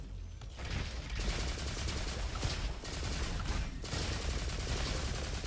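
Rapid, sustained automatic fire from the Valkyrie rifle in the Roboquest video game, a dense continuous roar of shots with a few brief gaps, loud and up close.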